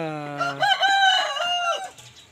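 A year-and-a-half-old rooster crows once, close and loud, with a clear harmonic call that starts low and rises, then trails off into quiet.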